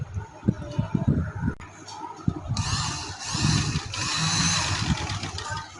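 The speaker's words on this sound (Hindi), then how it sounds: "पहले मैं इधर से सिलाई लगानी शुरू करूँगी" Sewing machine stitching a V-shape neckline on fabric: a steady mechanical whirr with rapid needle ticking that runs continuously through the second half, preceded by handling and rustling noises close by.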